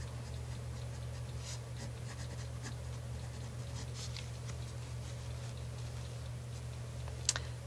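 Pencil or pen writing on paper, soft scratchy strokes in short bursts over a steady low hum, close and faint, with a sharper tick near the end.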